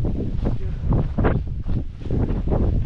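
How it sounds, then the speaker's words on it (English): Steady wind buffets a microphone at a snowy Norwegian coastline shore fishing spot, a loud continuous low rumble that swells and dips in gusts, with no talk. "wind picked up a bit now"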